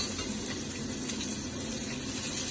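Onions mixed with garlic sizzle steadily in a pan, a continuous close hiss and crackle of frying with no talk over it.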